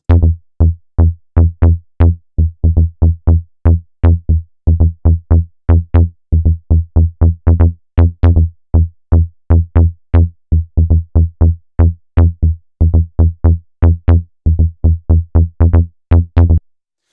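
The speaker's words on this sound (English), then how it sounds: "as those velocities climb and begin to get higher, what's going to happen is that the pitch is going to change" Logic Pro ES2 synth notes with velocity mapped to pitch, a long series of short, punchy plucked tones in quick rhythmic groups whose pitch shifts as the strike strength changes, loud and alone.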